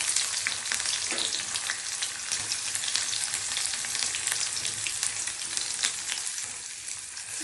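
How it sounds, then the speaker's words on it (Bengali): Cumin seeds and onions fry in hot oil in a pan, with a continuous close sizzle, crackling pops and occasional stirring scrapes, no talk. "এভাবে সাদা জিরা দিচ্ছি, দিয়ে পেঁয়াজ দিয়ে দিচ্ছি"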